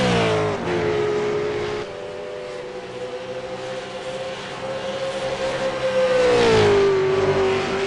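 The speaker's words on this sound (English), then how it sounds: "Richard Hampstead is throwing his car all over the place to hold on to this second position from Lee Ellis." V8 race cars in a racing video game at Watkins Glen, a loud sustained engine drone that rises and falls with revving and shifts as cars race past, steady throughout with no talking.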